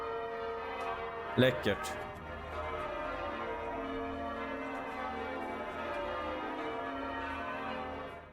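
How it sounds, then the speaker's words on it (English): Cathedral bells ring outside York Minster, a sustained, moderately distant peal of overlapping tones, with a brief voice and a couple of sharp knocks early on. "The bells are ringing and the cameraman is taking it all in."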